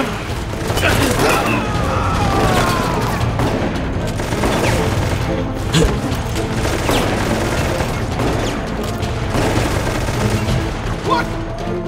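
Sustained heavy gunfire in Resident Evil Operation Raccoon City, a loud continuous barrage of overlapping shots and booms with mechanical clatter, and voices talking underneath.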